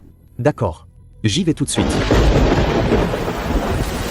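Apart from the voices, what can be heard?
heavy rain and thunderstorm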